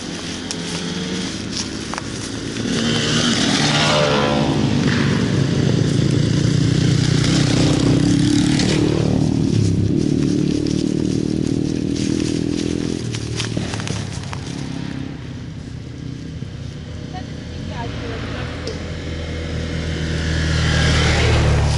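A column of cars and other vehicles passes on the road, with loud, continuous engine rumble and road noise that swells, dips midway and builds again near the end.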